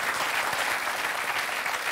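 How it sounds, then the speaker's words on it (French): A television comedy show's studio audience applauds loudly and steadily, a dense wash of clapping that stays constant throughout the short stretch with nothing else over it. "On l'applaudit très fort."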